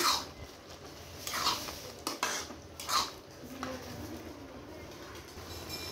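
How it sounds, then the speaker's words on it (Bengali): A spoon scrapes and clinks against a metal cooking pot while shrimp and cumin powder are stirred together, several sharp metallic knocks spaced irregularly over a low background hiss. "দিয়ে এবার নেড়ে নেব"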